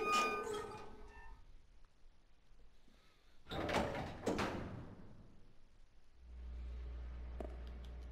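A door opening in the video game Resident Evil Zero, two sharp mechanical clunks and creaks in quick succession after a quiet stretch, followed by a low steady hum of ambience.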